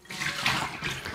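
Hot water runs steadily from a kitchen tap as a continuous, close rushing splash, heard alone.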